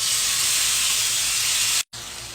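Chicken breast sizzles in hot oil in a pan on low heat, a loud, steady bright hiss that cuts out for a moment near the end and then returns slightly quieter.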